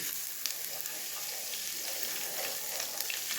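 Hot oil sizzles and crackles steadily up close as white cumin seeds fry for a dal tempering, with small pops scattered through the continuous frying hiss.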